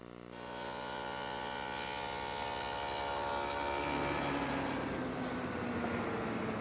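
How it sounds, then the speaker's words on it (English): An oak blank is fed through a table saw fitted with a dado head cutter, giving a steady loud whine with a strong harmonic tone that holds throughout and shifts slightly as the cut progresses. "So I've set up the table saw once again with the dado head cutter. I'm going to run both ends of the blank through"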